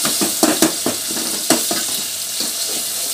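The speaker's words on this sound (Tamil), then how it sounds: "இப்போ தக்காளியை நல்லா வதக்கி எடுத்துடலாம்" Tomatoes sautéing in a hot pan with garlic and onion, a loud close sizzle broken by repeated scraping and clacking stirs, no voices over it.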